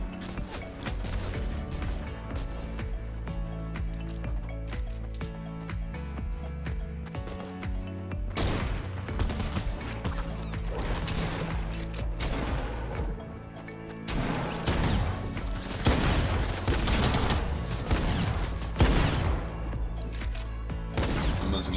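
Fortnite video game gunfire, with bursts of rapid shots and impact crashes over the game's background music and effects, repeated volleys clustered in several bursts across the stretch.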